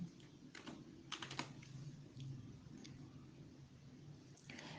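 Quick bursts of keystrokes on a computer keyboard as letters are typed, close and crisp, with short pauses between clusters over faint room noise.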